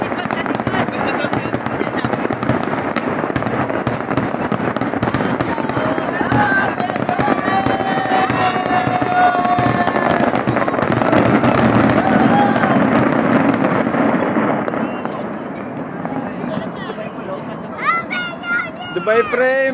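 Dense crackling and booming New Year fireworks at the Dubai Frame go off continuously, with a crowd and children's voices chattering throughout before the bursts thin out near the end.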